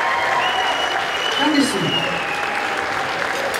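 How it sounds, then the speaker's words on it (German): Audience applause fills a gala hall, a steady broadband clatter of clapping carried through the whole moment, with a presenter's voice speaking over it. "Ein riesen Applaus für die Grafenberger"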